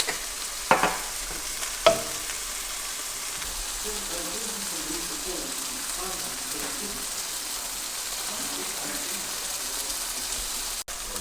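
Chicken frying with crushed red chili flakes in a pan, a constant close sizzle broken by a couple of sharp utensil knocks near the start and soft scraping as it is stirred.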